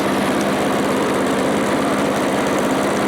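An old MTD lawn mower engine idles in a steady, unbroken drone with a rough, buzzing tone, close and fairly loud, with no speech.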